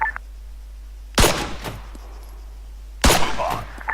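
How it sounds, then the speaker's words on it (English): Two sharp pistol shots fire at a target range in the video game ArmA 3, each a sudden loud crack with a short ringing tail, spaced about two seconds apart against quiet background. "Fortunately, I'm a reasonable shot with my pistol."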